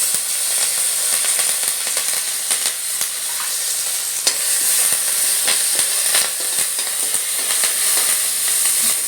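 Curry leaves crackle and sizzle steadily in hot oil in a pan alongside dried red chillies, a dense continuous frying hiss with small pops throughout and nobody speaking.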